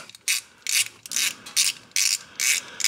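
Ratchet wrench loosening a 17 mm oil drain plug on a Honda DCT ATV, giving about seven close, loud rasping clicks in an even back-and-forth rhythm with no talking.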